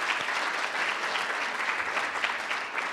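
A seated audience at a Batman soundtrack panel breaks into dense, sustained applause that stays loud and even throughout, with no voices rising above it.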